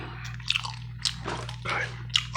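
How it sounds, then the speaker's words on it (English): Classic bubble gum chewed close to the microphone for ASMR, with wet, squishy smacks in uneven bursts over a low steady hum. "let me get some gum chewing and start this up"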